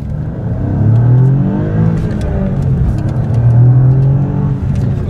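A 2018 Alfa Romeo Giulia Quadrifoglio accelerates hard, its engine note rising in repeated sweeping climbs through the gears, loud and close with a rough, throaty growl and no talking.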